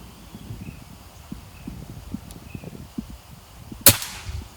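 A single sharp crack of a PCP air rifle firing a Hercules pellet near the end, preceded by quiet outdoor background with faint rustling and soft knocks.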